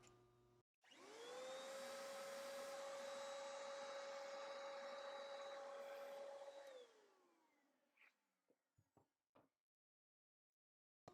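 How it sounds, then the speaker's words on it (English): A small hand vacuum runs steadily at close range for several seconds, sucking up solid debris, then winds down, followed by a few faint clicks and taps in near silence. "we're going to use this little hand vacuum to suck up as much as we can of the solid for starters"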